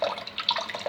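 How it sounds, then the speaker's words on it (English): Water runs steadily into a toilet cistern through a diaphragm ballvalve that will not shut off, a close, continuous splashing trickle with no voices. "to see if you can stop the water flowing continuously"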